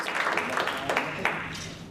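Applause fills a recovery court session in Gaston County as a program graduate is celebrated, a burst of clapping from a small courtroom crowd with some voices mixed in.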